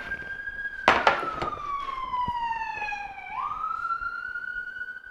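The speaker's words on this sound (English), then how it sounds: "The siren song of Brooklyn. Cops and firemen and ambulances interrupted my shit." A Brooklyn police, fire or ambulance siren wails loud and close, its pitch sliding slowly down and then sweeping back up, with a few sharp knocks near the start.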